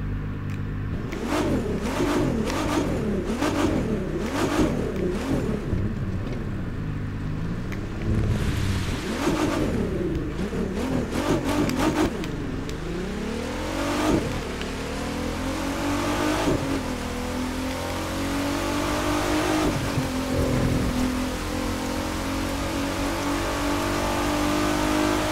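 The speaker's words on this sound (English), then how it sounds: "hear the engine guys" A Nissan GT-R engine revs repeatedly in the game The Crew 2, rising and falling in pitch with sharp throttle blips, then settles into a steady high drone; synthetic game-like engine audio, loud and continuous.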